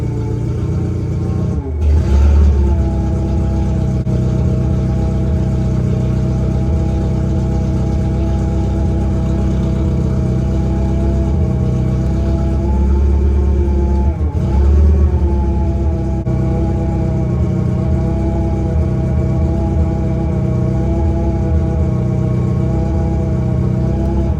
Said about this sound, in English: got the Evo 4 running. Run a little rough.